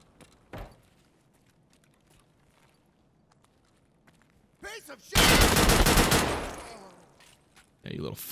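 Gunfire from the shooter game Escape from Tarkov (SPT): a lone shot early on, then after a quiet stretch a loud, dense burst of rapid automatic fire lasting about two seconds, followed by another shot near the end.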